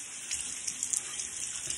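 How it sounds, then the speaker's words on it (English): Steady running water from a tap as a King C. Gillette razor and blade are rinsed, a continuous hiss with small splashy spikes, close and alone without talk. "Wash this off too. Just give it a good rinse."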